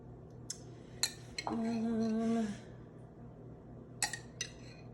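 A spoon dips and scoops pasta sauce while lasagna-stuffed portabella mushrooms are topped, giving a few sharp metallic clinks against a container and a short low hum midway, in a quiet kitchen.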